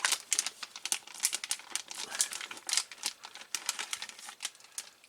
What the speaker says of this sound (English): I'm the first one that's tearing it open